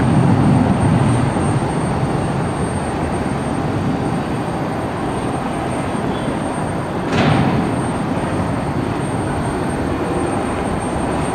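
A United Airlines jet at Cleveland Hopkins Airport makes a loud, broad engine roar that holds steady for the whole stretch, with a brief swell around the middle.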